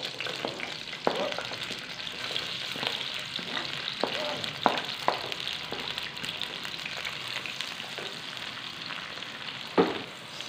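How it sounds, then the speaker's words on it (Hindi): Onions fry in hot ghee with a continuous, moderately loud sizzle, broken by repeated light taps and scrapes of stirring at an uneven rhythm. "घी गर्म होते साथ हम प्याज डाल देंगे।"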